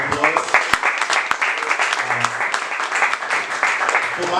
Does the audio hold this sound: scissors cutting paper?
no